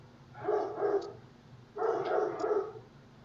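Dogs bark indoors in two short bursts of a few muffled barks each, separated by a brief pause, at moderate volume and with no talking.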